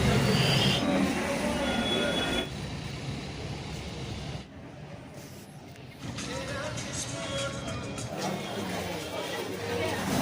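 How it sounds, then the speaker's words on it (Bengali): A train waits at a station in Varanasi for the return journey, with rumbling railcar noise, shifting wheel and carriage sounds, and people talking nearby throughout. "তো এই আমাদের ফেরার ট্রেন।"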